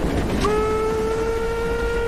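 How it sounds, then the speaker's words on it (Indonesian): A train horn sounds loud and close, a sustained steady tone that starts abruptly and holds over rumbling rail noise as a train brakes to a sudden stop. "sang masinis yang melihat hal itu terpaksa menghentikan kereta secara mendadak"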